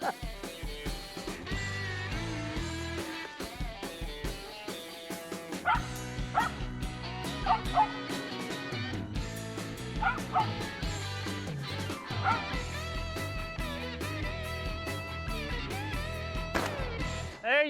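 A hunting dog barks and yips at a squirrel up a tree in Mississippi woods, repeated excited barks with some whimpering, close and loud, over a busy background of other sounds.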